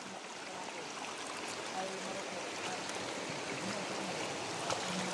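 A flowing stream runs steadily outdoors, a constant broadband rush of water close by with no break.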